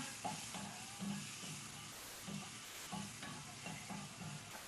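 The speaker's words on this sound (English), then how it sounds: "Give it a stir." Salted and peppered shrimp being stirred in a hot pan for bang bang shrimp, with a steady sizzle and soft repeated scraping strokes at close range, no talk over it.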